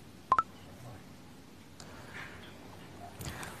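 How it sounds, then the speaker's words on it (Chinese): Telephone keypad tones sound as someone dials a call: two quick, close beeps near the start, followed by quiet room ambience and faint indistinct sounds. "你要不要现在给他打个电话？"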